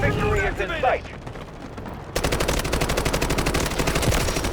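AK-12 gunfire in the video game Delta Force: after a quieter stretch with scattered sounds, loud rapid automatic bursts erupt and hammer on continuously, close and dense, to the end.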